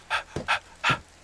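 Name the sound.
character's heavy breathing in Medieval Dynasty video game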